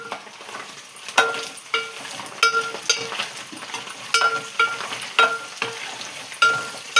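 Egg frying in a hand-held pan, a continuous soft sizzle broken by repeated sharp spatula scrapes and taps at irregular intervals, close and with no one speaking.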